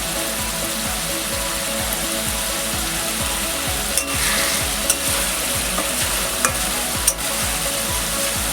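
Green chillies drop into a pan of rui posto, a Bengali rohu fish curry in poppy seed paste, and a steady loud sizzle follows. A few faint clicks and stirring taps sound over the continuous frying, and nobody speaks.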